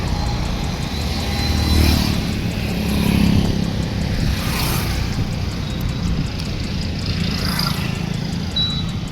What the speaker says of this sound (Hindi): बहुत गाड़ियाँ आ रही हैं इधर से।